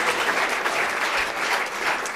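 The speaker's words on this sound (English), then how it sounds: "ladies and gentlemen, can you give Stephan a very big round of applause" An audience at a talk on 2020 show jumping rule changes breaks into steady, loud applause, a dense wash of clapping with no voices above it.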